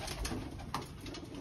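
Pigeons coo in a loft, a soft low rolling coo repeating over a second or so against a faint steady background hum, fairly quiet and close.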